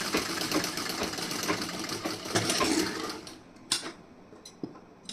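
A sewing machine runs steadily while stitching the front part of a wedding blouse, its close, continuous whirring rattle lasting about three seconds before breaking into a few short, separate bursts.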